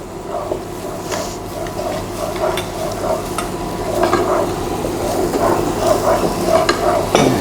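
Ground garlic paste fries in a pan and is stirred steadily, giving a loud, close sizzle mixed with continuous scraping and clinking strokes that grow slightly busier toward the end.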